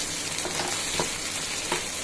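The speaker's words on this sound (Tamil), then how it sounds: "தக்காளி நறுக்கி வச்சிருக்கேன் அதுவும் சேர்த்து வதக்கிடலாம் வதங்கட்டும்" Tomatoes sizzle and crackle steadily in a hot pan, with a couple of soft stirring scrapes; no voices.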